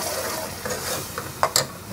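Onions and tomatoes fry in a pan while being stirred, giving a steady sizzle with a few sharp scraping strokes near the end.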